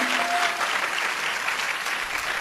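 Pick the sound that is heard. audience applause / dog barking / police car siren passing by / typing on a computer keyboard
audience applause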